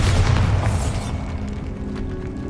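A loud, close Bombarda blast spell from the Hogwarts Legacy game bursts in one heavy boom, then fades into a rumbling, crackling tail.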